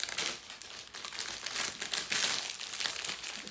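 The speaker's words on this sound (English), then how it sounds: "So I'm going to untwist the cellophane. Sorry for the crinkling." Cellophane wrapping being untwisted, giving a steady, close crinkling and crackling that continues throughout with no pauses and no talking.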